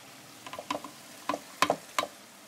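Frozen peas stirred into a frying masala for a peas-and-meat curry, a spoon scraping the pan in a handful of short, sparse strokes over a faint background, no talk.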